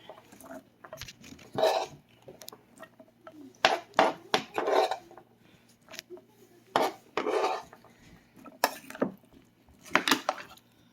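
A spatula stirs tokwa't baboy, fried tofu and pork, with two chopped onions in a pan, giving irregular scraping and clattering bursts that come and go with pauses between them.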